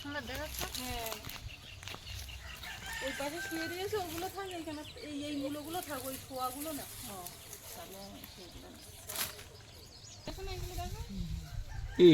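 Chickens clucking and a rooster crowing in a rural Sundarbans homestead yard, with repeated cackling calls close by and people talking in the background.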